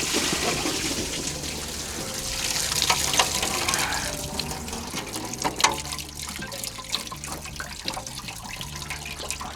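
Water drains steadily from the radiator of a 40-year-old truck, a continuous splashing, gurgling pour at close range with occasional drips and sputters, heard alone without talking.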